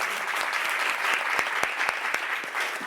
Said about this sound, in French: Olimpia Ponschafer de Vental Cinema, on peut l'applaudir